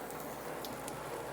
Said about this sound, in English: that rain started coming down pretty hard